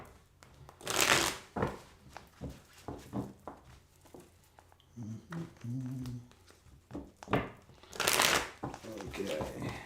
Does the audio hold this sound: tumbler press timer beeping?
no